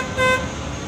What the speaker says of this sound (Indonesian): Bunyi seperti itu berarti klaksonnya kan nggak mati ya.